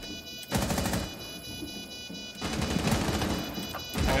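Rapid automatic gunfire in Rainbow Six Siege, with two loud sustained bursts separated by a short gap, close and dominant.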